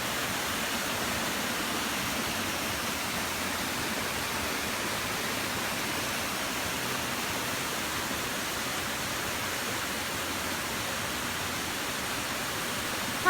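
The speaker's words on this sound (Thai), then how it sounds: "ฝนตกก็มีน้ำตกด้วย" Steady, dense rushing water fills the scene without pause, a broad hiss like a waterfall in a valley blending with falling rain.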